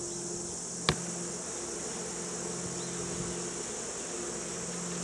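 Honey bees hum around hive supers outdoors during a fall honey harvest, a steady droning buzz throughout with one brief sharp click early on.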